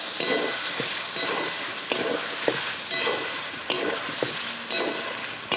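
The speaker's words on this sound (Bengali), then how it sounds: "আর একটু ভালো করে ভেজে নেব" Chicken fries in a hot pan with a loud, steady sizzle, interrupted every second or so by the scrape of a stirring spoon.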